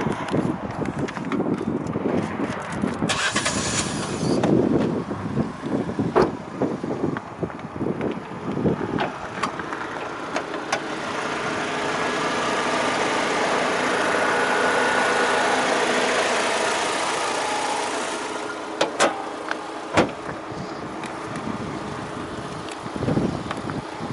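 A 2023 Fiat 500 1.2 Lounge petrol engine heard under the open bonnet: clattering and handling noises give way to a steady low idle hum, with some wind buffeting on the microphone.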